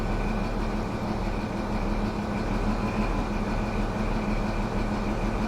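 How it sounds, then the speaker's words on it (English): Train engines revving in the video game Train Sim World 3 on the Midland Mainline, a loud steady diesel drone with a low rumble and a sustained hum held evenly for several seconds, alone without talk. "I just wanted to rev the engines up so you can see the smoke coming through here"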